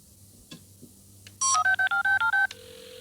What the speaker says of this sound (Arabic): الهاتف يرن.